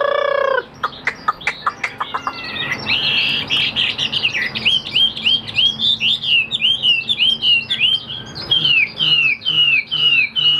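A caged songbird sings loudly and close, a fast run of repeated sharp chirps giving way to a long sequence of bright whistled phrases, with no talking.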